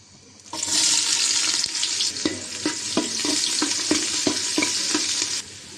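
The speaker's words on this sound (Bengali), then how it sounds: "সাথে পেঁয়াজ দিয়ে দিলাম।" Onions hit hot oil in a pot with dried chilies, cinnamon and cloves, setting off a sudden loud sizzle and steady crackle, with rhythmic scraping stirs throughout.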